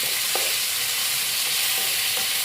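Tomato frying in hot oil for chicken fried rice, a loud, dense, continuous sizzle close up, with faint stirring knocks underneath.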